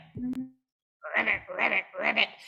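A voice imitates a frog, giving three drawn-out, raspy croaks in a row, close and moderately loud, after a brief soft knock during a Passover sing-along.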